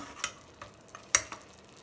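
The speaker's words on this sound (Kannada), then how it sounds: "ಸ್ವಲ್ಪ ಫ್ರೈ ಆಗಲಿ ಇದರಲ್ಲೇ." A spatula stirs gongura chicken curry frying in a pan, giving a few sharp scrapes and clinks over a soft, steady sizzle.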